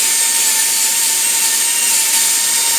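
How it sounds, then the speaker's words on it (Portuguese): A 2135 dental bur with a rounded-tip tapered shape drills during a metal-ceramic crown preparation, giving a steady, loud, high-pitched whine that holds unbroken throughout with no talking. "Eu também posso usar essa broca, ó, por ela ter a ponta arredondada, para fazer o término."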